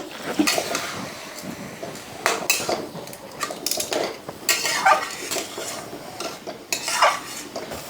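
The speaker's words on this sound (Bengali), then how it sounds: "এইভাবে নাড়িয়ে একটা ডো বানিয়ে নিতে হবে" A utensil scrapes and clinks against a bowl while medu vada dough is stirred, an uneven run of close, fairly loud knocks and scraping strokes with no talk.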